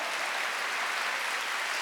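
Steady applause from a congregation fills a church service during a Wednesday worship, a dense unbroken wash of clapping with no voices standing out.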